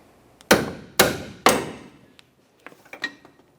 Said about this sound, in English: use a hammer and give it a couple loving bonks to drive it through